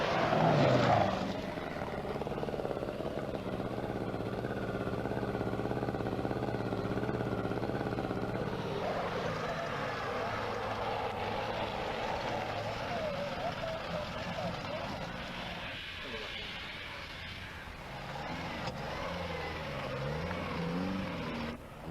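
Triumph TR7 V8 rally car engines rumble at the Cork International Rally, a steady low idling drone with shifting revs underneath someone talking throughout.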